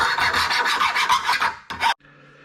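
A hand file rasps back and forth over the sharp edges of a metal bracket in quick repeated strokes, close and clear, then stops after a final short burst.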